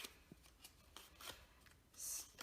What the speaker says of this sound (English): make sure you crease it well